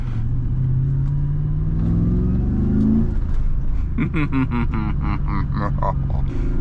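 A 1998 BMW E36 fitted with a 4.4 V8 accelerates hard on a motorway, a loud close engine drone rising in pitch through the gears, heard from inside the car with someone talking over it.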